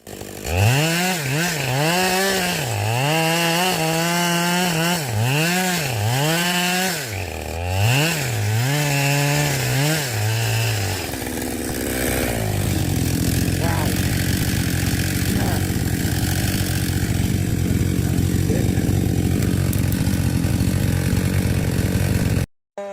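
A chainsaw revs up and down in repeated surges, then settles into a sustained, loud grinding as it cuts steadily through a large tree.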